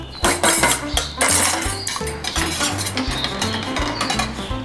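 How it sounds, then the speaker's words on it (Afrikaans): A pan and dishes clatter loudly and repeatedly while an egg is cooked, with quick clinks and knocks over a rhythmic low-pitched background. "Kom ons maak die eier in die pan."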